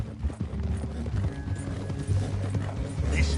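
Horse hooves clip-clopping at a steady walking pace in Red Dead Redemption 2, with a rider tied up on horseback en route to Saint Denis, under a low rumbling game ambience.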